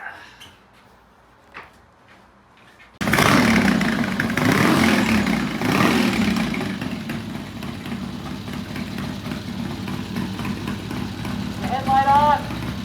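A Triumph motorcycle engine starts up abruptly and runs loud and close, holding a steady, rumbling idle with slight revs. Voices talk over it before a test ride.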